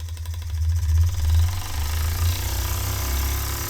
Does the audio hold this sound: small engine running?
yes